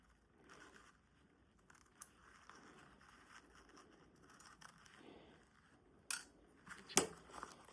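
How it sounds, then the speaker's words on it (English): Scissors trim paper down to envelope size, quiet snips and scraping crunches scattered across the stretch, with a couple of sharper, louder cuts near the end. "So I'm going to cut that down to the size of my envelope."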